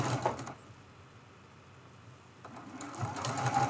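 A sewing machine stitches a seam on a scrappy crazy-quilt pin cushion, a close mechanical whir at the start that pauses and then picks up again near the end, with no voices.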